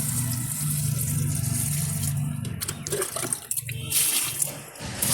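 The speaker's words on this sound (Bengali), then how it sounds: "এখন দিচ্ছি গাছের জল" Water pours steadily onto household plants, a continuous, fairly loud splashing flow lasting throughout with no voices.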